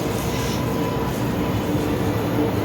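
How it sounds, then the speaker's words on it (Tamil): A metro train pulls into a station platform, giving a loud, steady rumble and rolling hum that continues throughout, with no voices over it. "இந்த ட்ரெயின் வருது."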